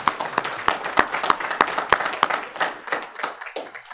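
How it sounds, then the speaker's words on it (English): A church congregation claps together, a steady patter of applause that thins and fades out after a few seconds. "Let's give him a round of applause this morning."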